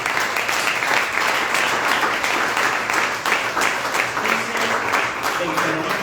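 A church congregation applauds steadily for several seconds, a dense wash of many hands clapping together, with voices mixed in beneath the clapping.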